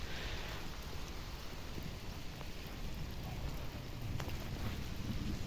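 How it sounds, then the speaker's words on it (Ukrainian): Steady rain falls outdoors on an early evening under a dark storm sky, a continuous dense hiss with light patter on surfaces and puddles, loud and close with no voices. "Нехай йде дощ."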